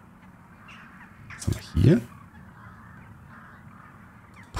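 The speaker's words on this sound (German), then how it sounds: "Hier haben wir ein paar Vögel." Crows cawing in the horror video game Darkness Under My Bed: two harsh caws close together, moderately loud over a quiet ambient hum, with someone speaking German in the clip.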